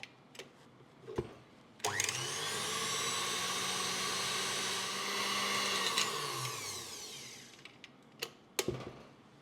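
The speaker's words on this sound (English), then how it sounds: "Turn on electric mixer, beat for another 1 or 2 minutes or until they combined." An electric mixer beating chocolate cupcake batter switches on with a click and whirs steadily for a few seconds, then winds down, with scattered clicks and knocks before and after.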